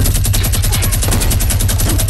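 Rapid automatic gunfire from a new weapon in a shooting video game, a continuous dense burst of sharp evenly spaced shots lasting about two seconds, loud and close with no talking.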